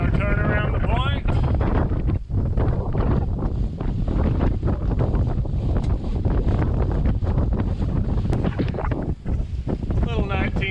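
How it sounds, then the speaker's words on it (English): Strong wind gusts buffeting a sailboat rounding a point off Grenada, loud continuous roaring wind noise over rushing water, with brief voices in the background. "Little 19 knot gust there."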